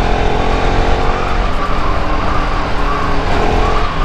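Bajaj RS 200cc motorcycle riding past on a road, a loud, close, continuous engine roar with shifting pitch, and no talk.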